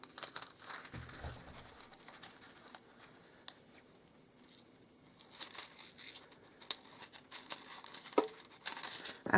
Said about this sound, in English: I'm going to take my foil and my scissors. I'm going to cut my foil.